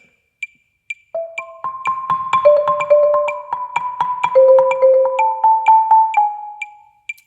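A mallet instrument plays Vivaldi, a melody of sustained tones ringing over a steady ticking pulse of repeated eighth-note clicks, clear and close, with no voices.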